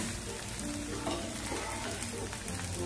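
A varicha dosa for fasting sizzles and fries steadily in a hot pan as it roasts, a close, continuous crackle with no voices.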